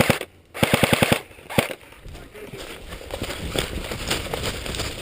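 Airsoft guns fire during an outdoor airsoft game, a rapid close burst of about eight shots followed by a single shot, then scattered rustling and movement as the action continues.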